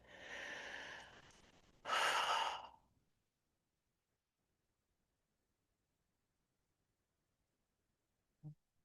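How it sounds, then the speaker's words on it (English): A calm breath drawn in and released as a long sigh, followed by a second, louder exhale, then quiet with a faint soft click near the end, heard alone during a guided meditation. "Let's do some breathing."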